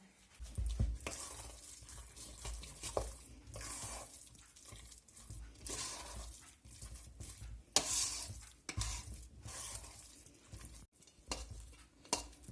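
Wet, uneven scraping and clinking of a utensil stirring thick fish-cutlet mixture with a spoonful of semolina in a bowl, continuing in irregular bursts with no voices.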